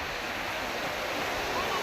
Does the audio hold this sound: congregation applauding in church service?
no